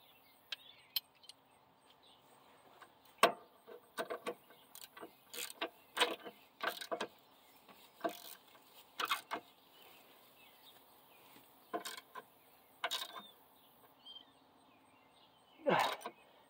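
A socket wrench ratchets to loosen a bolt on a broken plow point. Irregular bursts of close, sharp metallic clicking and clanking are separated by short pauses, with quiet rustling between them.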